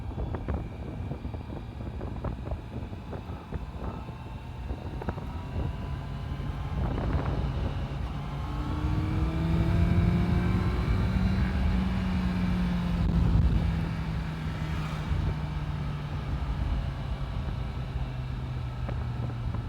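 Honda CBR650F motorcycle ridden on the road with a passenger aboard, its engine note climbing and falling through gear changes under heavy buffeting wind noise.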